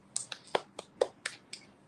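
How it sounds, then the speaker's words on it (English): Hands clap in a quiet, evenly spaced series of about seven sharp, light claps with short gaps between them. "We're clapping. We're clapping. We're clapping."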